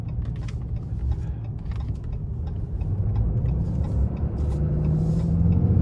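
A 2024 Ram 2500 Limited Night Edition Mega Cab pickup with a Cummins turbo diesel, heard from inside as a steady low engine rumble and road drone that grows slightly louder while it drives.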